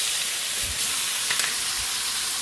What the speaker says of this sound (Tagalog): Habang nagigisa tayo